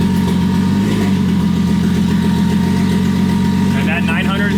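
A turbocharged 2JZ engine idles in gear at about 900 rpm with a loud, steady, even drone throughout, and a brief wavering tone rises near the end.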